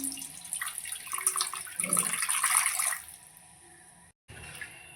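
Water pours from a tap into a pan of spiced potatoes for a Bengali koi fish curry, a steady splashing rush for about three seconds that then thins to a quieter trickle and briefly cuts out.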